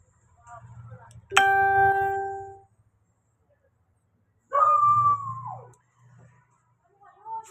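A dog gives two drawn-out, whining howls separated by a quiet pause, fairly close, with low rumbling background noise.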